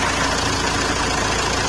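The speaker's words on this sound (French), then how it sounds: "Le véhicule est redémarré, bien sûr." A car engine idles just after being restarted during battery charging, a steady, close, even drone with no talking.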